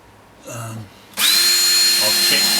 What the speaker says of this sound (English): I've just drilled another pilot hole